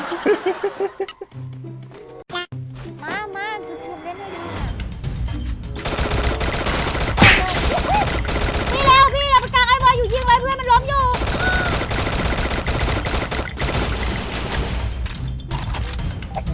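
Gunfire in the mobile shooter Free Fire rattles in dense, loud automatic bursts with scattered single shots and booms after a few quiet seconds, with some voice and game sounds early on.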